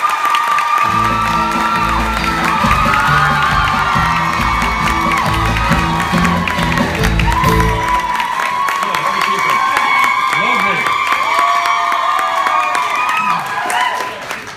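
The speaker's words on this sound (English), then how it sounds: "They definitely get an award for the most high-pitched scream of the night so far." A group of girls lets out high-pitched screams and cheers at the Kildare Rose 2015 event, amid a loud, continuous crowd roar with whoops and applause that carries on steadily throughout.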